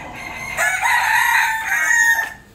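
A rooster crows loudly and close by in a chicken coop, one long drawn-out call, with other hens faintly audible around it.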